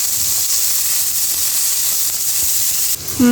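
Egg curry cooks in a pan with a loud, continuous sizzling hiss throughout, ending in a brief knock and a short tonal clink.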